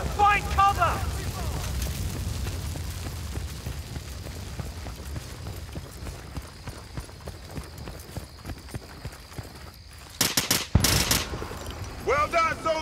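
Sniper rifle fire in the war video game Battlefield: Bad Company, sharp cracks breaking through a long stretch of rumbling battlefield noise, with a cluster of loud shots near the end.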